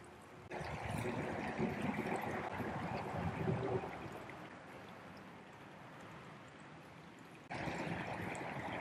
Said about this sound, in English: in addition to the sound of serene flowing water